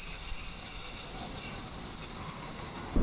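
Passenger train running on rails in the Czech Republic, wheels giving a sustained, loud high-pitched squeal over steady rumbling rail noise throughout, ending in a sudden louder low thump.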